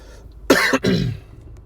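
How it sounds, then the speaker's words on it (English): A man gives two sharp, close coughs followed by a short rasping clearing of the throat, all within a quiet second or so and with no talk over it. "Excuse me if I keep coughing"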